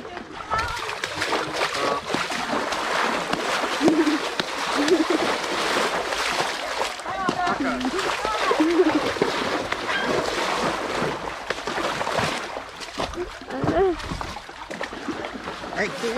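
Ponies splash and wade through a river outdoors, with irregular sloshing and splattering water over wind noise while people talk.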